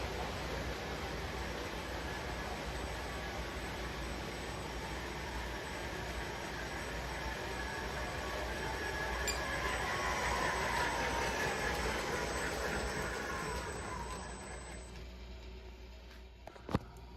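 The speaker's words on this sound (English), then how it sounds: "That is a pretty long train." A 3D-printed toy train pulling more than 30 cars runs steadily along its track, producing a continuous close rolling rattle and whir that swells slightly midway, then quietens before a small click at the end.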